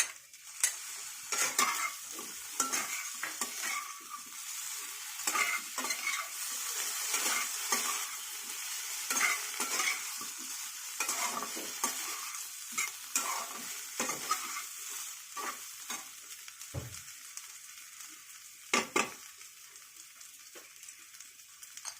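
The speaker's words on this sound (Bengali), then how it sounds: "এই যে আদার পেস্ট আর কাঁচা লঙ্কার পেস্টটা দিয়ে দেবো" Ginger and green chilli paste sizzles and fries in oil in a wok while a spoon stirs it repeatedly, with occasional scrapes and clinks of the utensil against the pan, steady and close with no talking.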